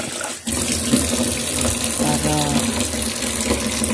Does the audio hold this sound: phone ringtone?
no